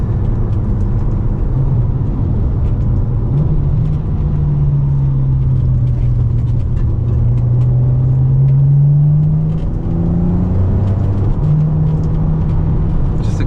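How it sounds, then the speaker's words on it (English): Steady low road rumble and engine drone from inside a cruising Ferrari 599, fairly subdued, with a faint tonal hum rising and falling; no talking. "It's not very loud in the interior, not a ton of road noise."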